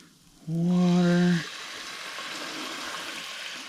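Water poured into a pot of lentils for dal tadka, a short, loud tonal gush lasting about a second, then a softer ongoing hiss and bubbling.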